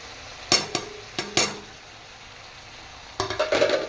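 Tomatoes with salt, turmeric and chili powder being stirred in a pan for a mango-tomato chutney: a few sharp spatula scrapes and knocks against the metal, quiet pauses between, then a cluster of stirring clatter.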